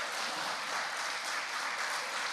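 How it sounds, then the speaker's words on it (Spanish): A church congregation at a Sunday service gives a short, soft burst of steady applause, heard faint and somewhat distant with no voices over it. "Denle un aplauso al Señor por eso."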